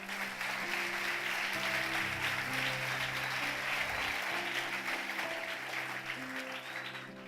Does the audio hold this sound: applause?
yes